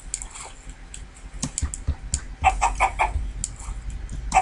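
A chicken in the video game EmpireCraft clucks in a quick cluster of short, clipped calls amid game noises and keyboard typing.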